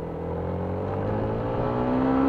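A Mitsubishi Strada Triton engine labors uphill on a zigzag mountain road, a loud steady drone whose pitch climbs slowly as it revs, close by and with no talking.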